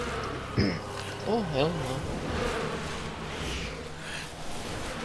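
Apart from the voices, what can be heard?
bees buzzing in Resident Evil 6 video game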